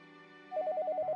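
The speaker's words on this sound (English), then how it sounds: "I hear a different ringtone than usual from Paulette's cell." A cell phone ringtone sounds in the visual novel game Maitetsu: a quick run of short, evenly spaced electronic beeps starting abruptly over a quiet sustained musical background.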